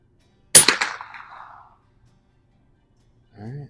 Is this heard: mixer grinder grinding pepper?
no